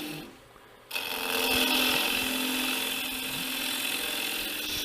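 Bowl gouge hogging waste wood off a turning bowl on a lathe, a steady close rasping scrape that starts abruptly after a brief quieter hum and continues evenly to the end, with the lathe motor droning underneath.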